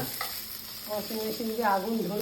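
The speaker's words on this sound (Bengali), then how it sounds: "এখন পেঁয়াজটা কিন্তু ভাজা চলছে" Onions fry in fish oil with a soft, steady sizzle, while a faint voice murmurs partway through.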